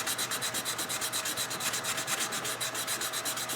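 Hand sanding with a sheet of sandpaper on a raised patch of a filled surface, rapid steady back-and-forth rasping strokes, close and alone with no voices.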